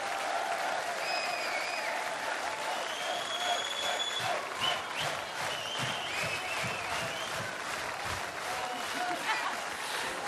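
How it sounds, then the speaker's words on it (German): A concert audience at a show applauds with a steady, moderately distant wash of clapping, with a few voices and whistles rising above it. "das ist euer Applaus."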